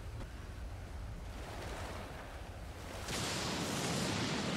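Stormy ocean waves surge in the survival game Stranded Deep, a steady broadband roar of surf and wind that swells louder and brighter in the last second and a half, with no talking.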